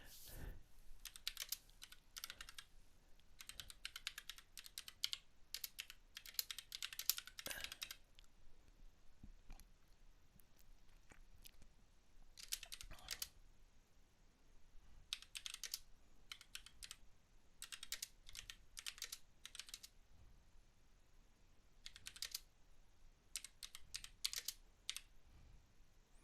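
Steady typing on a computer keyboard, with bursts of clicking keystrokes separated by short pauses, fairly close and moderately loud, no talk.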